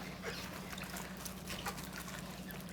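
Water trickles and splashes softly and continuously as halved napa cabbage is washed before brining for kimchi, a faint, steady patter close by.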